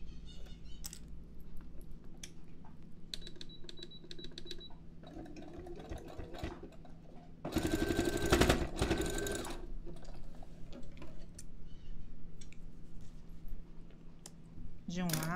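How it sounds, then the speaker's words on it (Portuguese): A sewing machine runs zigzag stitches while a cosmetic bag is being made, in short, close mechanical bursts separated by quiet pauses, with one longer, louder run near the middle and light clicks between. "zigue-zague na máquina e vamos fazer aquele mesmo zigue-zague que a gente fez"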